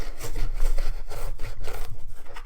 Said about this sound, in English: the more I scrub, I'm just scrubbing away the paint